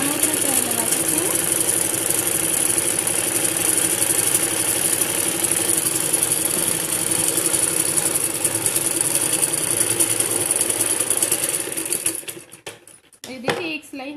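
Sewing machine stitching a parallel seam on salwar fabric, a steady close whirring drone running for about twelve seconds before stopping abruptly, followed by a few faint clicks.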